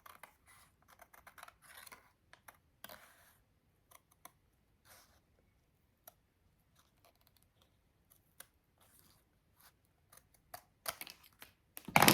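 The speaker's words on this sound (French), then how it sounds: "Et maintenant, je vais couper l'excédent." Scissors cutting off excess material while working on an envelope: faint, intermittent snips and small clicks spread through a mostly quiet stretch, with a louder cluster near the end.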